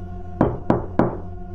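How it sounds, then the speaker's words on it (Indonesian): Three evenly spaced, sharp knocks on a wooden door, a horror-story sound effect, each a hollow thud with a short resonant tail over a low background hum. "3 ketukan, tidak lebih, tidak kurang."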